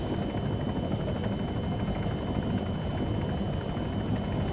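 A UH-1Y helicopter in the video game Arma 3 flies with a steady, dense rotor and engine drone, an even rumbling roar heard alone without voices throughout.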